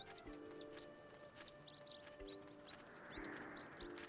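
Small birds in the Legend of Zelda: Skyward Sword HD video game chirp and coo in short, scattered calls, with ticking game sounds and a steady ambient backdrop underneath.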